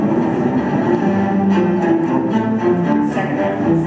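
Orchestral strings from the trio of Beethoven's Fifth Symphony play imitative fugal entries in a dense, steady texture, heard alone at a moderately loud level without any talking.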